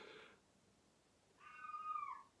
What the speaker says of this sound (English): Can anyone hear this crazy cat?